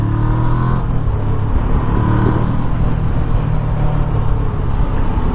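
A Kawasaki Ninja 650R motorcycle engine holds a loud, steady high rev, a continuous close-up drone with a slight dip in pitch near the start and no break throughout.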